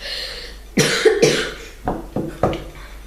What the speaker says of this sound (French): Oh là là, tu tousses.